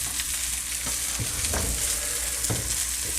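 Onions frying in a pan for a crock pot beef roast give a steady, close sizzle, with a few soft stirring scrapes breaking through now and then and no talking.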